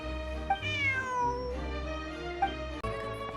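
Cat Bonnie meows in Genshin Impact, a long, drawn-out harmonic call with a rising then falling pitch, followed by a second shorter meow, close and clear over a steady low game hum.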